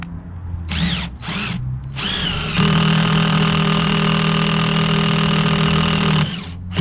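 A power drill boring into a steel trailer deck and catching on a weld: short whining bursts, then a long, loud, steady high drone that strains and cuts off, close up.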